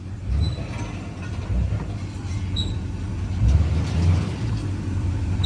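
Silverado Duramax 6.6 4x4 pickup pulling out with a trailer, its diesel engine a deep, steady, close rumble that rises slightly as it gets moving.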